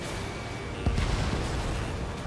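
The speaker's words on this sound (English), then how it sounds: "An explosion inside!" A single muffled boom from an explosion in the combat flight game Ace Combat 7: Skies Unknown bursts up briefly and rumbles off, surrounded by dense steady game noise.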